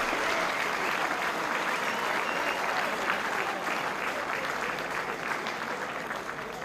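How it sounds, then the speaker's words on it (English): Audience applause at the opening ceremony of the Grand Masters European Cup tournament in Glasgow, a dense, sustained clapping from a large crowd that stays steady and fades slightly toward the end. "And very much applause for everyone here."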